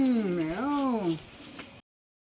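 A cat meows once nearby, a clear rising-and-falling cry that fades into quiet room noise.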